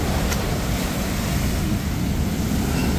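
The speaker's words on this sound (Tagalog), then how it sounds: "Talagang napakalaki ng mga alon po talaga." Loud, continuous roar of large ocean waves crashing and churning, mixed with heavy wind noise close to the microphone.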